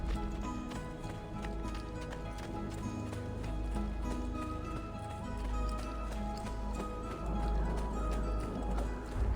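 Rapid galloping hoofbeats in the video game Assassin's Creed over a busy bed of game music, steady and fairly loud throughout, with no talking.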